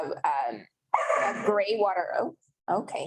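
A dog barks a few times at a distance outdoors in a garden during a class. Its yips and barks sit mixed in with people talking.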